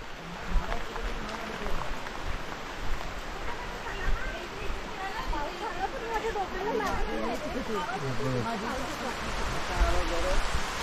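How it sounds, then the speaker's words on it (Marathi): Heavy rain falls in a Konkan village in Raigad, a dense continuous hiss that stays loud throughout, while several people talk and call out over it. "हे पाऊस आला मोठा आला."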